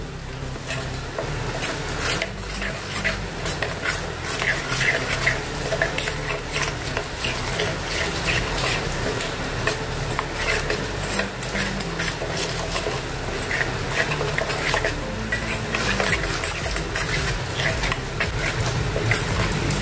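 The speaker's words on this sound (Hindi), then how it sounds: "तो इसको अच्छे से मिक्स कर लेंगे" Red chili powder, turmeric and salt stirred steadily into a pan for spicy okra, a continuous scraping, rubbing stir with faint sizzle throughout, close and even.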